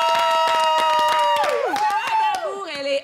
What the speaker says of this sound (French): On va applaudir notre invitée qui a déjà été avec nous sur ce plateau.